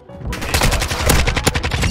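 Rapid automatic fire from a Kastov 74U in Call of Duty MW2, a loud, dense burst of close, snappy shots rattling continuously for about two seconds with no talking.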